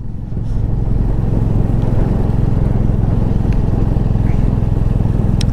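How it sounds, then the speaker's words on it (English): A motorcycle rides steadily along a mountain road in Ladakh, its engine droning loud and close with a constant low pulsing hum and wind rush throughout. "I can ride my motorcycle here all day."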